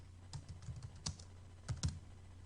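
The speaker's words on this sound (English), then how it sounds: "I'm going to turn my caps lock off and I'm going to type in this window." A few scattered keystrokes on a computer keyboard, quiet, close clicks in two short clusters separated by a brief pause, with no talking.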